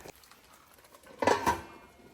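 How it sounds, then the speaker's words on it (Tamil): A metal lid set down on a simmering stew pot gives two quick clinks close by around the middle of an otherwise quiet kitchen moment. "இப்போ மூடி போட்டு வச்சிடலாம்."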